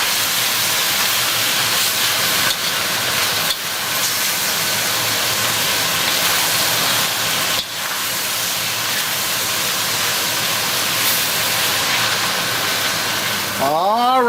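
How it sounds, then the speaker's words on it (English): Chow mein noodles sizzle in a hot pan on high heat, a steady loud hiss with occasional dips and a short scraping stir near the end. "you want to continue to stir fry this on high heat"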